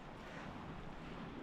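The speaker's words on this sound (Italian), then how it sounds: "Sempre sulla punta della Torre Cannai c'è un po' di vento" Wind blows steadily at the tip of the coastal headland of Torre Cannai on Sant'Antioco, Sardinia, a continuous broadband rush that buffets the microphone, with no voices.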